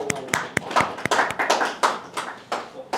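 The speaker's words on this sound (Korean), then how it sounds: "박수." A church congregation breaks into brisk clapping with sharp, uneven hand claps. The clapping is mixed with voices speaking over it.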